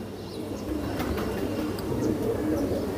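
High flyer pigeons cooing, low soft repeated coos with faint chirps over steady background noise.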